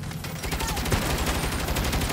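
Machine-gun turret firing in Saints Row: a dense, continuous rattle of rapid shots, loud and steady for the full stretch, with faint background voices.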